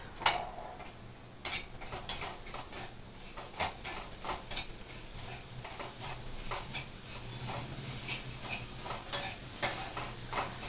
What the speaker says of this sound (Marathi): हा 1 वाटी गूळ आपण आता कढईत टाकायचा आहे आणि याला गरम करायचं आहे